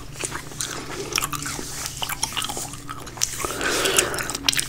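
Close, wet chewing of gum for ASMR, with crisp rhythmic smacks and squelches near the microphone over a faint low hum, with no talk.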